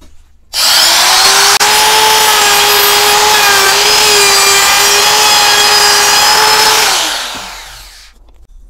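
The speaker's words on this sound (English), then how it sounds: "I've just thrown in a couple of sash clamps just to keep it stable while I go around with the router." Wood router cutting a ballet barre held in sash clamps, a loud steady high whine that starts abruptly, holds for about six seconds with slight pitch dips under load, then winds down as it stops.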